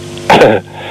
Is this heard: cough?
yes